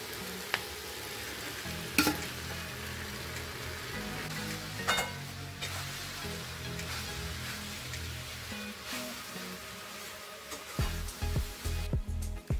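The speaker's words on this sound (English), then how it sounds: "Now add the fried soybean and cook it for 2 more minutes." Fried soybeans stir-cooked in chilli sauce in a pan, a steady soft sizzle with a spatula scraping and clinking at intervals, quiet and close with no talk.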